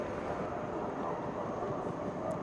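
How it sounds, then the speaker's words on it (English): A Deutsche Bahn high-speed train at a Frankfurt station gives off a quiet, steady low rumble and hum throughout, with no distinct events or voices. "DB, Deutsche Bahn, high-speed train."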